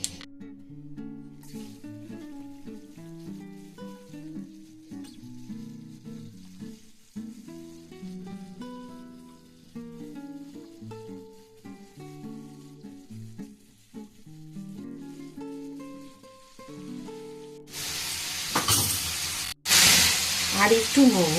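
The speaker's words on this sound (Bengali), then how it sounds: "তো এখন তেলের মধ্যে দিয়ে এগুলো ভেজে নিই।" Round slices of bitter gourd frying in hot oil, a low bubbling sizzle under gentle music-like tones that swells into loud, bright, spattering crackle near the end.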